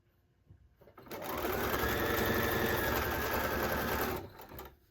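Sewing machine stitching quilt pieces in a steady, fast continuous run for about three seconds, close and loud, starting and stopping abruptly with no talk over it.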